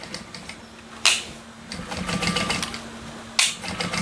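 A sewing machine bastes around the edges of a Lyra bag with a fast, steady mechanical chatter, broken by a couple of sharp clicks as the stitching continues close by.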